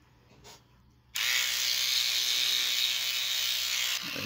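A toothbrush scrubs algae off a coral frag in a small 3-gallon aquarium, making a steady, loud, high buzz that starts abruptly and runs unbroken for about three seconds before cutting off.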